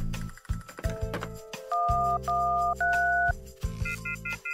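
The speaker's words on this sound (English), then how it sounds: "He dials random numbers and tries to make a call, but nothing happens." Motel telephone keypad tones as random numbers are punched in, a run of short beeps followed by longer steady two-tone presses, loud and close, with no one speaking.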